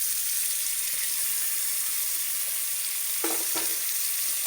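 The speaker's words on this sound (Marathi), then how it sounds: "आता ही हळद थोडीशी हलवते जरा तेलावर तळलेली चांगली असते हळद तळलेली मटण टाकते" Turmeric and village-style mutton fry in hot oil and are stirred, giving a loud, steady, close sizzle throughout. A couple of short scraping strokes from the spoon come near the end, with no talking.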